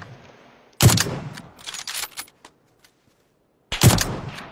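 Gunfire in the battle-royale video game PUBG: a loud burst of rapid automatic shots, then a few scattered fainter shots and clicks, silence, and another loud burst near the end.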